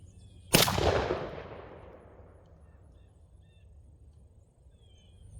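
A Mossberg 835 shotgun fires a single 3.5-inch bismuth #4 turkey load outdoors: one loud, sharp blast that rings out and decays over a couple of seconds, then quiet ambience.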